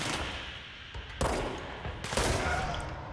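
Gunfire in the video game Control: dense, continuous rapid shots in loud overlapping bursts that swell sharply twice, with no talk over them.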